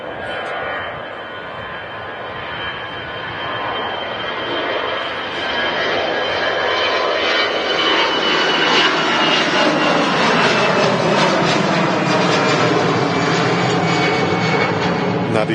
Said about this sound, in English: That EasyJet there on the way to Paris